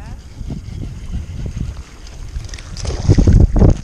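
Wind buffets the microphone in low rumbling gusts on a pond, rising louder toward the end, with water and boat noise mixed in.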